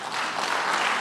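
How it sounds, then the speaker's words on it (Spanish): Church congregation applauding during a Spanish-language sermon, a brief dense wash of clapping at steady loudness with no voices. "Denle un aplauso a Jesús"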